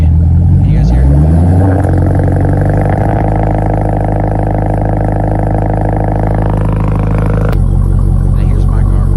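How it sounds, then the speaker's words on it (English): A Dodge Super Stock car's exhaust revving loud and close, a deep sustained roar that climbs and holds steady before settling back, with no talk over it. "So, very noticeable difference in the exhaust."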